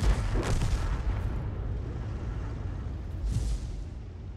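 Tank cannon fire in a tracked-vehicle combat video game, two heavy booming shots with rumbling low-end decay, loud and close, separated by about three seconds.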